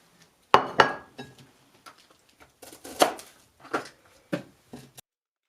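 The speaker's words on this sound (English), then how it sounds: "Let's go ahead and cut those Brussels sprouts in half as well." A kitchen knife halving Brussels sprouts on a cutting board gives about a dozen sharp, irregular chops and knocks, some louder than others, with short quiet gaps between them.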